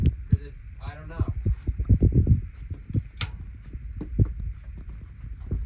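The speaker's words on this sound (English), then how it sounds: "I just hit the switch and I can hear it humming" A furnace in a dirty house hums steadily after its switch is flipped, with low rhythmic thumping running underneath and a person talking over it nearby.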